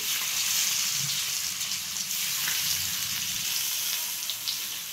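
Taro leaf rolls (alu vadi) frying in hot oil in a kadhai, giving a steady, close, loud sizzle with fine crackling throughout and no talking.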